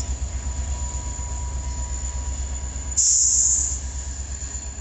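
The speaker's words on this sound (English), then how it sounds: "This is occasionally how Frontrunner takes off." FrontRunner commuter train pulling away, low rhythmic rolling rumble with a sudden loud high wheel squeal partway through, close by.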